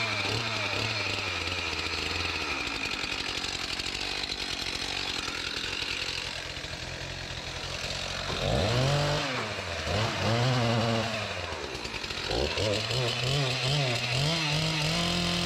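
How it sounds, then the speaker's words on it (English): A chainsaw cuts aspen wood pieces to barrel length, loud and close, with a steady high-revving buzz that drops to a lower idle and then surges again in several rising and falling bursts as it bites through the wood. "I will cut the pieces to the full length of the barrel so they will fit snugly."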